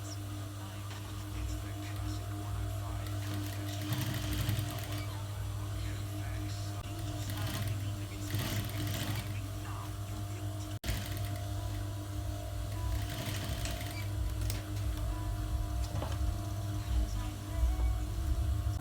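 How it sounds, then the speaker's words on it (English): A sewing machine hums and rattles close by while stitching around a trouser hem, running continuously for the whole stretch with a brief pause near the middle. "I've stitched or I've sewn all round."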